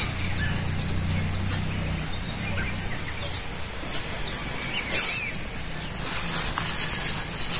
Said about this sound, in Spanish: Si escuchan con atención, van a escuchar muchos pajaritos.